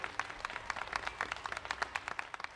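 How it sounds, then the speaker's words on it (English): Applause from a crowd at an autism advocacy rally, dense and fairly faint, heard from a distance as a steady patter of many hands with no voices over it. "Thank you for your warm applause"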